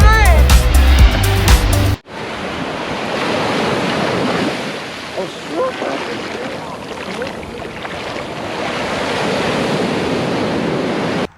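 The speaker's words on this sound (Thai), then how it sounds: "แล้วก็คลื่นทะเลในวันนี้นะฮะก็ ค่อนข้างแรง" Ocean surf at Cape May beach, with rough, strong waves rolling and washing in a steady broadband roar mixed with wind buffeting the microphone, following a brief burst of music at the start.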